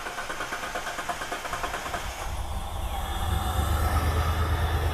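Hyundai Terracan engine idling with a misfire: a steady, close, uneven rumble with rhythmic pulsing that grows louder and deeper partway through.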